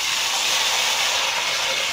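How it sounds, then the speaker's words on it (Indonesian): Jengkol slices, soaked overnight and peeled, frying in hot oil for a jengkol and tempeh dish, giving a steady, loud, close sizzling hiss that runs unbroken for the whole stretch with no talking. "Nah, sekarang kita goreng jengkolnya."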